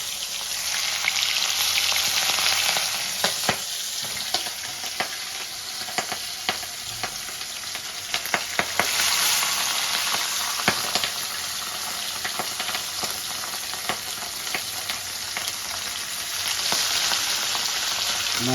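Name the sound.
frying katla fish pieces in white oil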